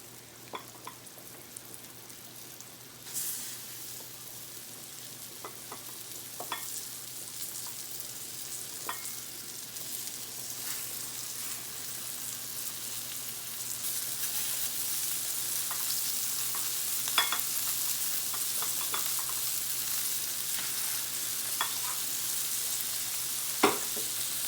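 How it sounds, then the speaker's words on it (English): Flour-dredged chicken breasts fry in a pan over high heat, giving a steady sizzle that builds and grows louder, with occasional pops and crackles and no talking. "I'm going to do this over high heat. So I'm quickly dredging them in the flour and then placing them"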